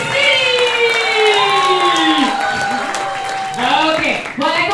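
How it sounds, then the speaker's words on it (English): Audience applause and cheering fill a theater at a curtain call for a 7pm performance of The Witches, with a loud announcer's voice calling out over the sustained clapping. "give a giant round of applause for what I believe are the greatest actors in this city!"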